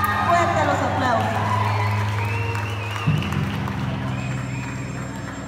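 Sustained audience applause at a secondary school graduation ceremony, steady clapping with some cheering and a voice over it, a low hum dropping away partway through.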